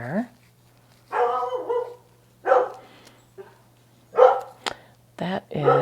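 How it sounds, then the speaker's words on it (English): A dog named Cash barks in several loud, sharp bursts with short gaps between them, heard near an open studio door over a low steady hum. "That is Cash barking"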